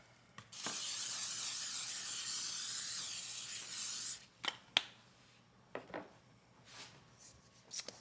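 A cooking spray can hisses in one long steady burst of about three and a half seconds onto a 9x13 baking pan, followed by a few light clicks and taps.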